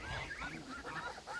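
Geese honk repeatedly at a farm feeding time, with goslings nearby, the calls overlapping in a steady, fairly close chorus with no talk.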